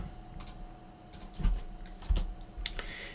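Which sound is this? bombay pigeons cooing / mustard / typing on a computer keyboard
typing on a computer keyboard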